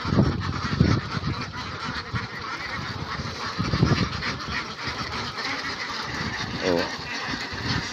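A flock of ducks near rice paddies calls steadily with honking, quacking cries throughout, close and fairly loud amid some background voices and rustling.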